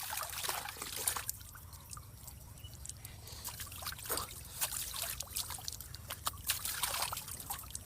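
Cold river water trickles quietly on a morning outdoors, a faint burble with scattered small splashes and drips close by.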